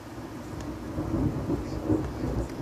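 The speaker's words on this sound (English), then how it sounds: "But it is thundering pretty loudly over here." Thunder during a storm rumbles low and steady for the whole stretch, swelling slightly near the middle and again toward the end, with a faint background hiss and no clear talk over it.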